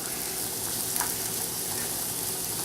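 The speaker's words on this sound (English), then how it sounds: "And we're going to saute these until they just start to release some juice." Mushrooms sautéing in a pan for a crab and shrimp alfredo, a steady, even sizzle with no talking.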